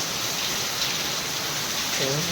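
Heavy monsoon rain beats down steadily with gusting wind, a dense continuous wash of noise filling the whole stretch, with a faint voice surfacing briefly near the end.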